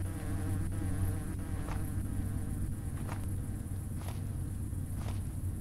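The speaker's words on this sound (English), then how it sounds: "Why are there so many damn bees?" Steady swarm of bees buzzes continuously over a droning background in a horror-tinged video game, with faint footsteps or knocks at intervals.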